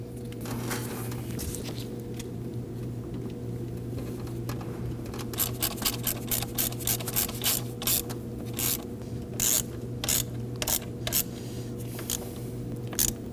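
A ratchet tightens high pressure line hardware on a 2009-2014 Ford F-150 3.5L V6, giving quick runs of sharp close clicks in uneven bursts over a steady low hum, with no talking.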